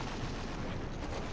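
Weapon fire in the vehicular combat game Twisted Metal 3: a dense, loud, steady wash of rumbling blasts and gunfire-like noise with no pauses and no voices.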